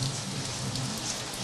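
Rain falls steadily and densely on surfaces, a loud continuous patter close by with no pauses and no voices over it.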